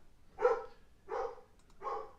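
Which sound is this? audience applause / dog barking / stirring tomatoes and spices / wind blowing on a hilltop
dog barking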